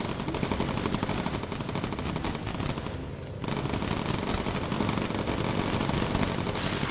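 Sustained machine gun fire from a bomber's turret in the video game Bomber Crew, a dense continuous rattle that dips briefly midway and then resumes at full strength.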